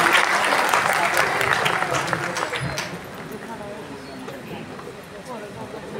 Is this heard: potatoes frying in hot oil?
no